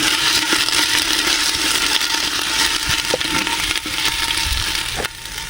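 Spice paste with garlic, onion and dried chilli is stirred in a clay handi pot, giving a continuous loud sizzling hiss with scattered scraping knocks.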